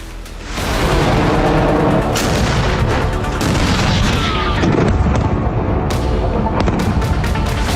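Israeli strikes on military sites in Syria, heard as a dense, continuous roar of explosions and rumbling blasts, loud and sustained, with sharper cracks punctuating the din.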